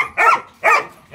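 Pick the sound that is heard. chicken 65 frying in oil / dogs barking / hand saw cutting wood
dogs barking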